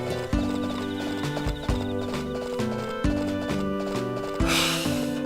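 A video game horse in Harvest Moon: A Wonderful Life neighs over bright, looping game music, with repeated clip-clop hoofbeats marking the rhythm and a brief breathy burst near the end, all synthetic and close.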